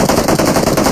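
Rapid automatic gunfire from a PUBG Mobile battle royale match, loud and continuous bursts filling the whole moment without pause.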